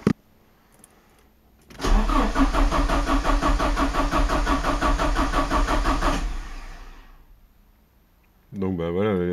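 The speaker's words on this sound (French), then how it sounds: "Le moteur a refusé de démarrer" Porsche 924S with K-Jetronic injection and fresh Bosch plugs cranking steadily for about four seconds without catching, a loud even churning that fades away, followed by a voice.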